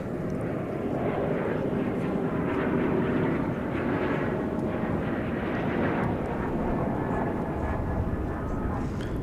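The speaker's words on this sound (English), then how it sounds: "CRJ coming in." A CRJ regional jet arriving at DFW Airport, a loud, sustained jet roar with a slight swell around the middle, heard close and on its own without speech.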